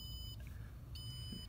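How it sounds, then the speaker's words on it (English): Electronic beeping from a home security system alarm sounds in two bursts, a steady high-pitched tone at the start and again after a short gap, over a constant low background hum. "You can see that our beepers will alarm me,"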